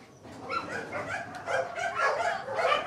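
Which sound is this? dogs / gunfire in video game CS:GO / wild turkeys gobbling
dogs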